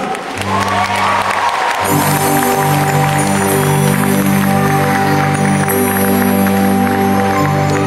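An audience claps loudly and steadily as a Bengali singer is welcomed on stage at the NABC 2008 event in Toronto. The applause starts soft and swells into a dense wash, and sustained band music joins it partway through.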